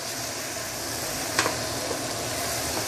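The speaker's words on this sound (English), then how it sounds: "And you need to keep on stirring so that you won't burn your chili" Chili sambal for a nyonya fish dish fries and sizzles in a pan while being stirred, a steady dense hiss with a brief scrape of the utensil partway through, close and continuous with no talking.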